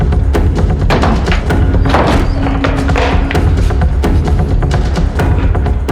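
Repeated heavy thuds and knocks hit a locked door as it is forced open, landing in quick irregular bursts, loud and close, over a dense, busy background.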